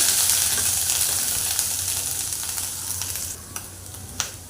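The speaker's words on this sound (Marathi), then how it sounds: "जिरं टाकूया थोडासा हिंग आलं लसूण पेस्ट टाकूया एक चमचा आणि चांगलं परतून घेऊया" Cumin, asafoetida and ginger-garlic paste sizzle steadily in hot oil in a pan, a loud continuous frying hiss with faint stirring scrapes that eases slightly toward the end.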